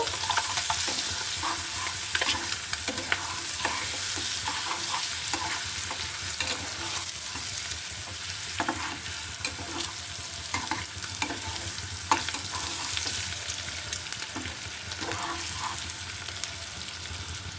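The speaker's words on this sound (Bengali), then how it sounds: "একটা তেজপাতা ডিমের সাথে পেঁয়াজটা আমি ভেজে নিব" Chopped onion fries with egg and a bay leaf in hot oil, giving a steady, close sizzle with frequent stirring scrapes and light clatter throughout.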